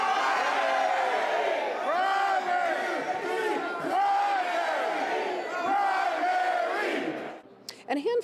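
Rally crowd at the Indiana Statehouse shouting in unison, a dense roar of many voices in rhythmic chants and cheers that fades toward the end.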